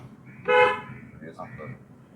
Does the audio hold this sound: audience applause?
no